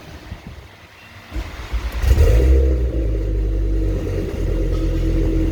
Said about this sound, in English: Start the car.